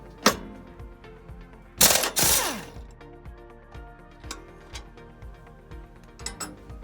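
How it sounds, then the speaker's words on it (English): A wrench works the idler nut and bolt loose on a 100V hydraulic drive mower, giving small metallic clicks and clanks in an irregular rhythm, with a couple of louder rattling scrapes near the start, all close by and with no talk. "You will reach around to the top of the frame where the nut is, and then you'll remove the bolt from the bottom side."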